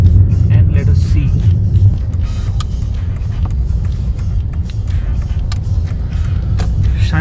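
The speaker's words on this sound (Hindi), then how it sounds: "let us take this car to the rough road and let us C" 2014 Toyota Etios Cross, 117,300 km on it, driving over a rough road, with a steady low rumble of engine and road noise, scattered knocks and rattles from the surface, and someone talking over it.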